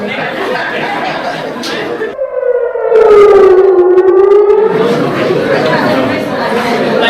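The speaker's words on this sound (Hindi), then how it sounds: "वहां से लगातार सायरन की आवाजें आ रही हैं" A loud air raid siren in Israel during Iranian attacks rises and wails steadily for several seconds, surrounded by crowd chatter and murmuring voices of people sheltering before and after.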